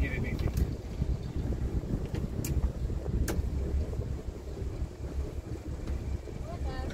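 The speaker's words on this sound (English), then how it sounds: "Keep the engines running and just wait for the other side to open." Boat engines idle steadily as the vessel waits inside a canal lock in the Netherlands, a continuous low rumble mixed with wind noise on the microphone and a few brief knocks nearby.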